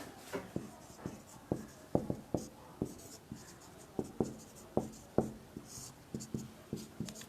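Chalk or marker writes on a board during a lecture, in quick rhythmic scratchy strokes with short pauses between bursts, close and moderately quiet, with no voice over it.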